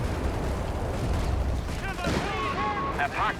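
Grenade explosions and gunfire in Company of Heroes 3 rumble loud and dense throughout, with a voice talking over the battle noise.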